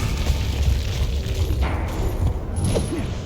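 In the Gears of War video game, a frag grenade bursts inside a grub hole, a loud, close, rumbling boom that lingers as a dense low roar with faint debris-like crackle.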